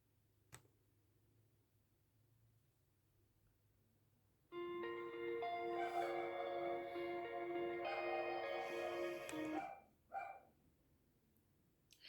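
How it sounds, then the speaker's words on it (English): A dog barks from downstairs inside a home, a faint, muffled run of barks lasting about five seconds, followed by a couple of brief quieter yelps after a pause, with otherwise quiet room tone. "my roommate's dog starts barking"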